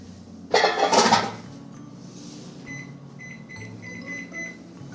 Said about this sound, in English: Let's put the lid on and let that steep.